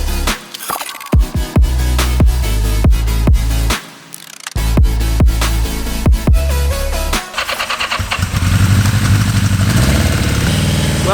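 A used Craigslist motorcycle bought for $700 runs in snowy weather, its engine loud and close, revved in repeated sharp bursts with brief drops between, then settling into a steady rough idle.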